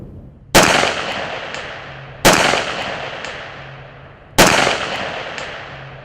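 Three loud, sharp gunshots fired from a rifle braced against a barricade in a marksmanship shooting position, spaced about two seconds apart, each with a long decaying echo and no talk.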